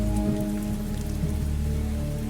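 Heavy rain at night in a Hindi horror cartoon, a dense, steady downpour drumming loudly and continuously, with a low rumbling undertone.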